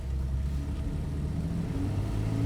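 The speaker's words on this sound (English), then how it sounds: "Now first we'll just drive it" A Porsche 911 997.2 Carrera 4S engine drones steadily from inside the cabin while cruising sensibly on the road, a continuous low rumble with mild road noise and no pronounced revving.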